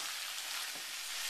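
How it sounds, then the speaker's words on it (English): Drained pork carnitas sizzle steadily in a pan, a dense, close crackling hiss with no voices, like bacon crisping. "to sizzle it, kind of like crispy bacon"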